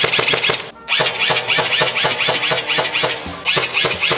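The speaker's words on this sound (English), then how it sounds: "Using the Acetech Lighter-R, I will be shooting the Valken .20 green tracers." An ASG CZ P09 airsoft pistol with a suppressor fires Valken .20 green tracer BBs through an Acetech Lighter-R tracer unit, making a rapid run of sharp, close snapping shots in quick bursts with brief pauses.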